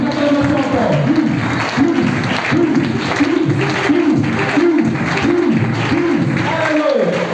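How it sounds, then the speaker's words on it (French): A large church congregation claps rhythmically and cheers, loud and sustained, with a voice chanting over the applause. "Plus d'acclamation encore."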